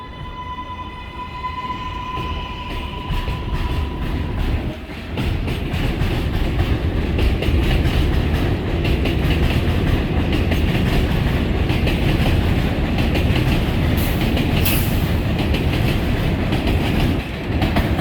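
An NYC Subway 7 local train bound for 74th Street–Broadway runs between stations, a loud, close, sustained rumble with rhythmic clickety-clack and a brief whine fading early on.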